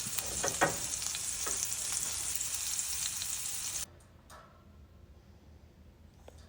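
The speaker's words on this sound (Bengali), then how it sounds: "এখন গরম তেলে দুপাশ সুন্দর ব্রাউন হওয়া পর্যন্ত" Pompano fish frying in hot oil gives a steady, dense sizzle for nearly four seconds, then drops to a much quieter crackle with a few soft ticks.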